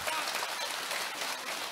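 A church congregation applauding: dense, steady clapping from many hands fills the room, even in level throughout, with no clear voices on top.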